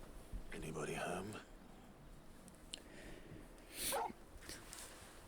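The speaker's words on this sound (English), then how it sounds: "Turtle barked at something" Torgal, the dog from the video game Final Fantasy 16, gives a couple of short, faint barks and yips amid quiet game ambience, with soft voices murmuring nearby.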